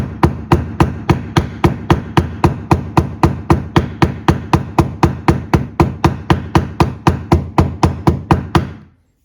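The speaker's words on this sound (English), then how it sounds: "if you go around with the ball peen side of the hammer and you hit on the edge here," A ball peen hammer taps around the edge of a paper gasket to cut it out for a homemade engine gasket, about thirty sharp, evenly spaced strikes in a fast steady rhythm, loud and close, then stopping.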